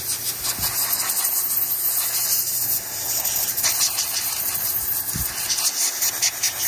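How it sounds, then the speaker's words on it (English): An airbrush blows a steady, close hiss of air over a model diesel locomotive to dry off cleaning fluid, continuous throughout with a couple of faint knocks underneath. "sometimes I'll use my airbrush just to kind of chase it around"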